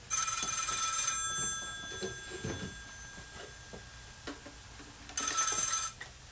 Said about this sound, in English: I think the phone's ringing.